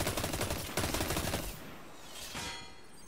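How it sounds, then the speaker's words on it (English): Enemy fire in Destiny, disc-like projectiles launched in a rapid rattling burst that stops, starts again and then fades into a low rumble, with no voices. "It's like they're shooting discs at me."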